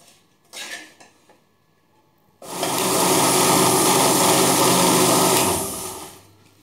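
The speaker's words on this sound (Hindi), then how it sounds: "अब हम इसको मिक्सी करेंगे।" A mixer grinder blends green chilli sauce, starting abruptly and roaring loud and steady for about three seconds before winding down, after a few faint clinks of the jar.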